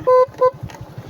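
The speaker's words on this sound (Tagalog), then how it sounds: "Sa part na to, kailangan mo rin bumusina." Horn on a motorbike ridden toward a rough road near El Nido, Palawan, giving two short beeps, the first slightly longer, over a low rumbling engine.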